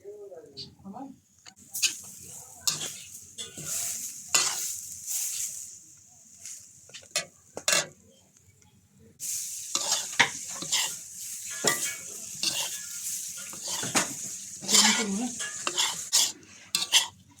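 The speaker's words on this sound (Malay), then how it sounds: "So kita nak goreng dulu kelapa." Grated coconut fries in a pan to make kerisik, with a soft sizzle under repeated scraping and stirring strokes and light clinks of utensils against the pan, fairly close and moderately quiet.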